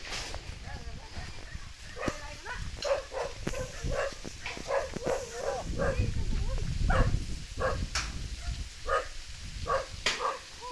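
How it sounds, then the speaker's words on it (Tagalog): A dog barks and yips repeatedly at close range in short bursts, with people talking and rustling around it. "May aso."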